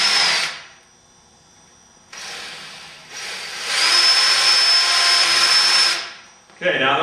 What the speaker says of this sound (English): now that we've got all the holes piloted, we're going to move to our 5/8 drill bit.